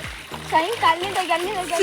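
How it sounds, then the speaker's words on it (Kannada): A small waterfall, Kabbedi falls, runs full in the rain. Steady rushing and splashing water sits underneath a person talking close by. "ಕಬ್ಬೇಡಿ ಫಾಲ್ಸ್ ಎಷ್ಟು ನೀರುಂಟು ನೋಡಿ ಜಲಪಾತ ತರ ನೀರು ಬರ್ತಾ ಉಂಟು"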